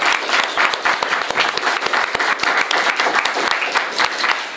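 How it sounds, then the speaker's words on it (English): Live studio audience clapping in a sustained burst, a crisp patter of many hands close by that holds steady, with no talk over it. "Let's give them a round of applause."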